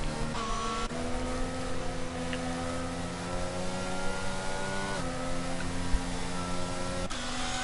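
Race cars in a sim racing game on the Belgium circuit accelerate hard at a safety car restart. Engines drone loudly and continuously, with pitch climbing through the rev range and abrupt drops at each gear shift, repeating several times.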